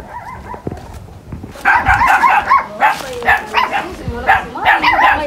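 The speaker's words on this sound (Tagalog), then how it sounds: "Ang daming aso marami akong naririnig na aso." Several dogs bark and yip in quick repeated bursts, fairly close, with a chorus of overlapping barks continuing through most of the stretch.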